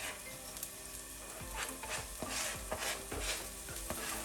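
Spring onions, garlic and ginger stir-frying over medium heat in a pan, a steady sizzle broken by a string of utensil scrapes and knocks against the metal.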